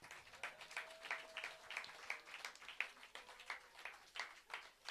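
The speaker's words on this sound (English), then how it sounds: "Give her a hand clap" Applause from a forum-symposium audience for a gift recipient, a thin scattering of claps with irregular bursts across the room, moderately faint.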